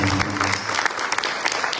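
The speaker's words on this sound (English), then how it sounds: "please give the team here a round of applause" An audience at an evening Hindu religious gathering in South Africa gives the team a brief round of applause. The clapping is irregular and fairly close, with a low hum and a faint voice beneath it.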